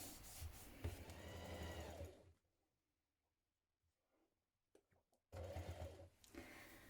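A sewing machine stitches across the bottom of a tote bag, running in a steady burst, pausing in near silence with a few faint clicks, then starting up again, close and fairly loud.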